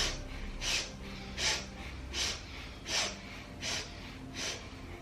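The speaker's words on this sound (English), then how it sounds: "Powerful breath." Powerful rhythmic breaths in a Kundalini kriya yoga exercise, six sharp nasal exhales spaced evenly under a second apart, close and fairly loud against a quiet room.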